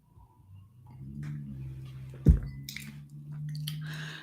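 Water is drunk close to the microphone in a quiet room, with a sharp bump and then a few soft wet sips and swallows.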